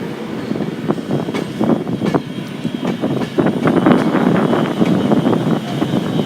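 A British Rail Class 390 electric train at Manchester Piccadilly station, heard as a steady, fairly loud rumble with rattling and some wind buffeting throughout, no voices.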